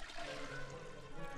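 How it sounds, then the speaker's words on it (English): A toilet flushes in The Sims 4, a steady rushing of water that runs at moderate loudness throughout, with no talk over it. "You want to flush it first for no reason, even though you should flush it last"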